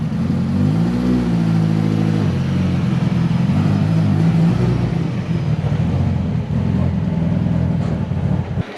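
A Mitsubishi Evo 8 engine revs loudly and steadily nearby, its pitch rising and settling as the throttle is blipped, with a continuous rumbling drone filling the whole stretch.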